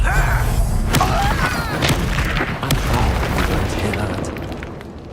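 A Bombarda blasting spell from Hogwarts Legacy bursts with a loud booming thud, followed by a dense rumbling wash of game combat sound and music; a voice is heard speaking during it.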